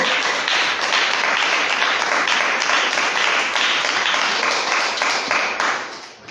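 Congregation applauding during a church service, dense sustained clapping filling the space, loud and continuous for several seconds before tapering off at the end.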